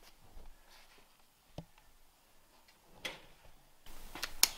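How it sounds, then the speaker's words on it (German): A ratchet with a 14 mm socket works on bolts of an MB Trac 800 tractor, giving sparse soft ticking clicks and a few sharper metallic knocks, faint and close in a quiet setting. "Ratsche mit einer 14er Nuss."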